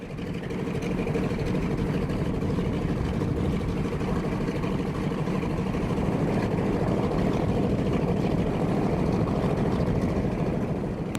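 Wright Cyclone 1820 radial aircraft engine of 1200 horsepower, a steady heavy low rumble that drones on evenly throughout, moderately loud with no voices over it.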